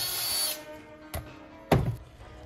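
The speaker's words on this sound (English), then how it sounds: "we're gonna go ahead and remove the ignition coil. Two 8 millimeter screws." A power tool loosens the 8 mm ignition coil screws on a Predator engine: a brief high whirr at the start, then two short, close bursts with sharp knocks, and no talk.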